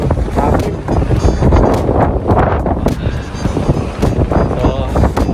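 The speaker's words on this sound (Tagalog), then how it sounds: "sobrang lakas ng hangin" Strong typhoon wind in Toyohashi, Japan, buffets the microphone as a loud, continuous roar with gusty surges throughout.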